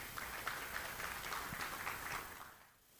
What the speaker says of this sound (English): Let's welcome with a round of applause Reverend Dr. Kojo Aka Kwarteng, Board Chair, Safety Communication Consult.